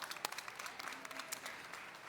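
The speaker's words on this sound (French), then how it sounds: "vous pouvez applaudir le représentant de l'Île-de-France" Audience applause greets a regional finalist at a national burger chef final, a steady wash of clapping at moderate distance with a few sharper claps standing out.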